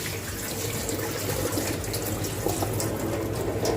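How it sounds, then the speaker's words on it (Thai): Soaking water drained off white rice vermicelli noodles, a steady close rush of pouring water with faint splashing, continuous for a few seconds with no talk. "ลินน้ำออกให้เกลี้ยงเลยนะคะ"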